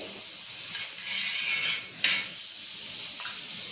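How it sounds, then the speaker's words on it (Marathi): Butter melting in a hot pan before pav bread is toasted for pav bhaji, a continuous close sizzle and hiss with faint stirring scrapes, no talking. "पाव भाजायला आधी थोडं बटर टाकून घ्यायचे"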